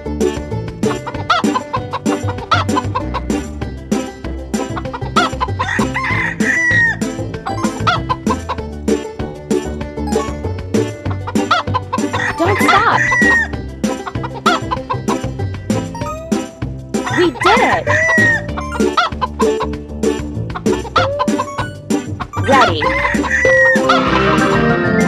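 Cartoon hens cluck steadily and loudly up close, with a rooster crowing several times over a rhythmic musical backing.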